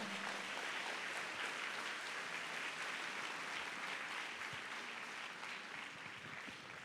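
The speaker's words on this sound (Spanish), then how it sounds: "Ahora bien, dale un aplauso fuerte al Señor." A church congregation applauds loudly and continuously during a Spanish-language sermon, a thick, sustained roar of clapping that stays fairly even throughout, heard from some distance.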